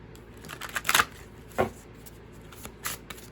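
Tarot cards riffled and shuffled in a few quick bursts, crisp papery flutters close by with short pauses between.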